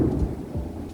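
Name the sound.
thunder during a thunderstorm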